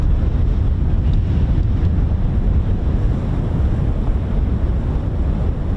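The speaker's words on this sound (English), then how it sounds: "You can probably hear the punchy winds there." Strong, gusty wind buffeting an outdoor microphone at the RAF Coningsby airfield, a continuous loud low roar and rumble that holds steady for several seconds with no talking.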